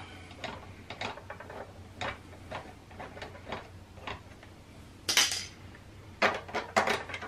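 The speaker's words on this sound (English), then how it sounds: "trying to get that bottom bolt out" Metallic clinks, scrapes and ratcheting of tools working loose the bottom bolt on a Sur Ron Light Bee's rear suspension linkage, in short irregular bursts with louder clattering toward the end.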